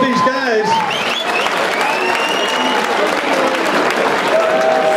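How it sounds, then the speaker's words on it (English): Loud sustained applause and crowd noise at an MMA fight event, dense clapping filling the venue throughout while a voice speaks briefly over it. "round of applause for both these guys."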